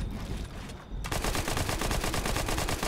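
Rapid SMG fire in the Fortnite video game starts about a second in and rattles on in a fast, even burst of shots, loud and close, over game ambience.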